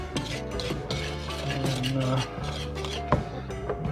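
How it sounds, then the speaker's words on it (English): Dry cornbread ingredients get whisked in a bowl: a rapid, continuous scraping and clinking of the whisk against the bowl, close and fairly quiet, with brief louder knocks. "I'm going to take and use a whisk on this. Just kind of mix all these dry ingredients together."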